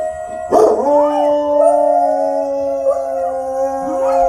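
A dog howls, a long, sustained, wavering tonal cry that starts with a sharp rise and holds steadily close by, the pitch bending slightly before a second swell near the end.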